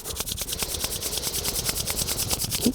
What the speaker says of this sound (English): we're going to bring the palms together and we're going to rub our palms quite quickly to generate some heat in the hands